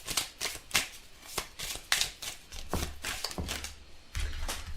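Tarot cards being shuffled by hand at close range, a series of quick crisp riffling bursts and taps in an uneven rhythm, with no speech over them.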